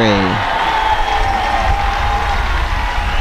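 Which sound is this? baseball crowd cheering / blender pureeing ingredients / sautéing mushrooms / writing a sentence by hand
baseball crowd cheering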